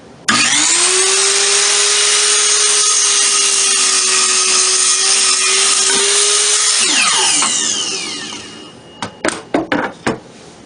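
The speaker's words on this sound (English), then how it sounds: "I start by cutting the boards to length using my miter saw." A miter saw cuts 1x4 wooden boards to length: a loud, steady motor whine runs for about seven seconds, winds down, and is followed by a few sharp knocks of the boards being handled.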